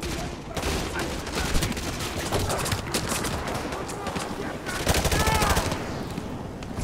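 Rapid gunfire rattles in Call of Duty: Modern Warfare 2, with a Striker shotgun among dense, continuous shots and battle noise, loud and close, while voices talk faintly underneath.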